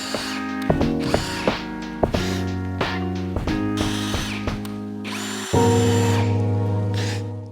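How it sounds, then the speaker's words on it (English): A power drill bores small hardware holes into an IKEA Kallax unit, loud and close, with repeated short bursts of whirring that stop and restart before a longer steady spin at the end. "I'm just putting these little tiny holes on here with a bigger bit"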